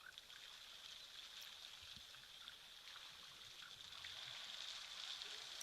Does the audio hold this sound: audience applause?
no